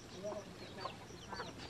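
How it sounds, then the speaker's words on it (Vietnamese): Backyard chickens, including a rooster and hens, cluck softly in a few short, quiet bursts with faint voices talking nearby. "Đấy con gà trống."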